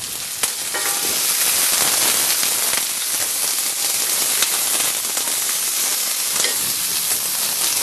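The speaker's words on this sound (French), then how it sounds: "j'entends les oignons qui claquent" Onions fry hard in a pan for a pepper and shrimp pie, giving off a dense, steady sizzle thick with sharp crackles and pops that carries on without a break.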